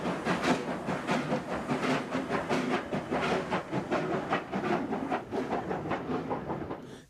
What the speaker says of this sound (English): the superb spectacle of Italian mainline steam in action